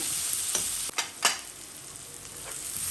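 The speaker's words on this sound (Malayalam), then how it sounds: "നമുക്ക് ഈ ഉള്ളിയും കറിവേപ്പിലയും പച്ചമുളകും കൂടെ ഇട്ട് കൊടുക്കാം" Onion, curry leaves and green chilli fry in hot oil for a fish roast, a steady bright sizzle broken by a few sharp spatula stirs and clacks early on.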